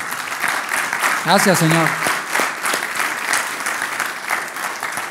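Church congregation applause during a sermon, a dense, steady wash of clapping throughout, with a voice briefly speaking over it near the start.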